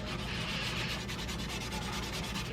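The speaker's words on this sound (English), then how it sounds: "the more I'm scrubbing, the better it's coming out" Steady, rhythmic scrubbing of rust from a stainless steel sink with baking soda and lemon, with repeated close abrasive strokes that continue without pause and no talking.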